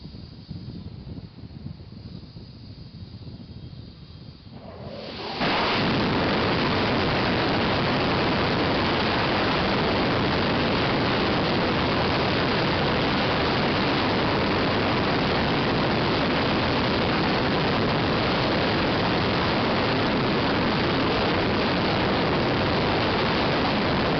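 A SpaceX Merlin rocket engine with a de Laval nozzle test firing: a faint rumble gives way after a few seconds to a sudden, loud, sustained broadband roar that holds steady to the end.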